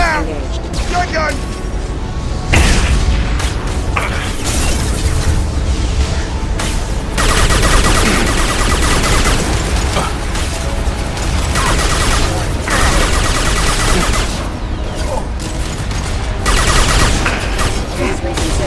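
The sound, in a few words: shotgun fire in the video game Mass Effect 2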